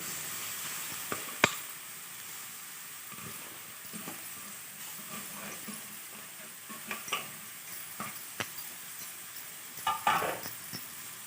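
Carrots frying in oil for a garlic-chili carrot rice dish, a soft steady sizzle under occasional sharp clinks and scrapes of a spoon stirring against the pan, close and fairly quiet.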